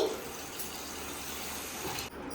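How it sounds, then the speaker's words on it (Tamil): Water is poured into a tumbler in a home kitchen, a soft, steady stream that runs quietly for about two seconds before stopping. "ஒரு டம்ளர் தண்ணி"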